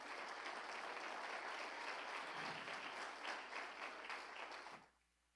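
A church congregation gives sustained applause during a Sunday service, a dense, even wash of many hands clapping that fades out near the end.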